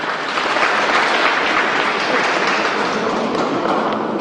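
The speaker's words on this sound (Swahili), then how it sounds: "Makofi kwake." Crowd applause at a Juja by-election results announcement, greeting a candidate who received 67 votes: a dense, steady clapping from many hands that holds evenly for the whole stretch without a break.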